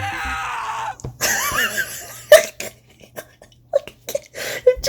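A cartoon Toad character screams in horror, a strained, wailing cry early on that breaks into loud, sharp, pained yelps and bursts separated by short gaps.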